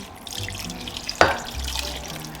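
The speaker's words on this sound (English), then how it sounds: "we're gonna go ahead and pour the juice" Juice poured over onions and peppers in a crockpot for a budget Cuban-seasoned dish, a soft liquid splash with one sharp splatter midway over low kitchen hum.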